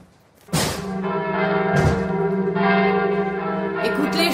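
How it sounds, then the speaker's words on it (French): Church bells ring out loud and close in a steady, continuous peal, their sustained overlapping tones swelling suddenly after a brief quiet start and holding full throughout. "Écoute les cloches."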